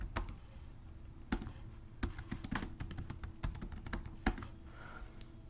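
Fingers tapping out a password on a computer keyboard, a quick run of crisp, close key clicks in irregular bursts with short pauses between, over quiet room background.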